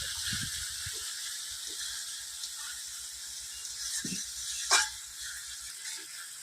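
Spice masala with ground coriander frying slowly on low heat, a faint steady hiss with occasional soft scrapes and a brief clink, quiet and close.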